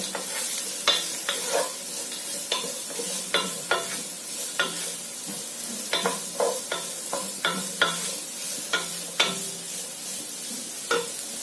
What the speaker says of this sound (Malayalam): ഇനി ഇതിലേക്ക് സവാള കൂടെ ആഡ് ചെയ്ത് കൊടുക്കാം.